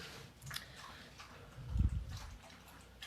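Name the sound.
dog licking, drinking water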